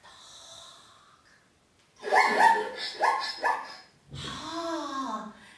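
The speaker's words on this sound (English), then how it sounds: "Why it sounds like a dog?" A zebra gives bark-like calls that resemble a dog, with a couple of sharp, loud yelps and snorting breaths, then a falling whine, close and alone after a quiet start.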